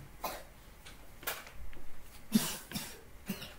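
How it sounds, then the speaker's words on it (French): A small cat gives a few short, dry coughs in separate bursts, faint and nearby, with quiet gaps between them. "j'ai un petit chat qui tousse un peu"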